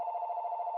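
A telephone ringing alone, a single brief electronic trill with a steady warbling tone at moderate volume.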